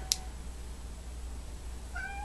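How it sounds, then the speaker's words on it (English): A house cat cries indoors, a short faint meow at the start and a clearer drawn-out meow near the end, separated by quiet room tone. "if y'all hear my cat crying, I'm sorry"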